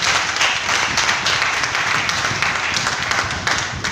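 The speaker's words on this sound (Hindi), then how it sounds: "एक बार जबरदस्त ताली चाहूंगा सिंभावली के आम बादशाह मिस्टर महिपाल जी के लिए" A crowd gives sustained, dense applause for Mr. Mahipal, the mango king of Simbhawli, at a stage event. The clapping stays loud and steady throughout, with no break and no other sound standing out.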